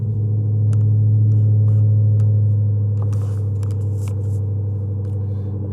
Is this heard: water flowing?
no